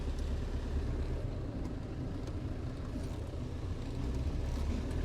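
A 1991 Land Rover Defender 90 with the 200Tdi diesel engine reverses, its steady low engine drone and drivetrain rumble continuous and fairly close throughout, with no talking.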